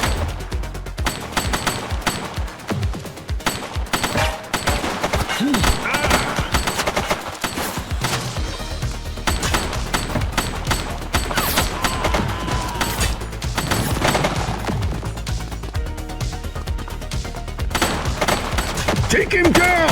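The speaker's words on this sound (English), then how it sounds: "He's shooting!" Gunfire from a shooting suspect in The Precinct: dense, chaotic bursts of shots with crashes and thuds over a steady background. Voices can be heard during the exchange.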